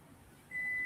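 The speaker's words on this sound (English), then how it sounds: "That beeping is my coffee." A coffee maker gives off a single steady electronic beep tone that starts midway and holds to the end, over a low hum of room noise.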